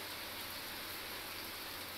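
Pre-monsoon rain falls over Buldhana, Maharashtra, as a steady, dense, even hiss with no voices, filling the whole stretch at a constant moderate level.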